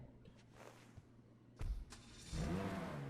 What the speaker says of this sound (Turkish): Aynı zamanda motor sesi de çok iyi bunun da.